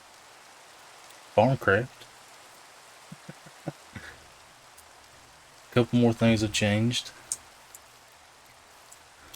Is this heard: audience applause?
no